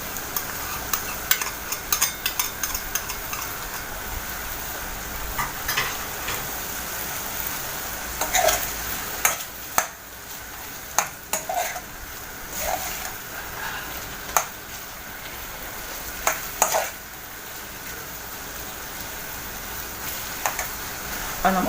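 A garlic clove frying in rendered lamb fat alongside lamb hearts and kidneys, with a steady sizzle and occasional stirring clinks and scrapes throughout.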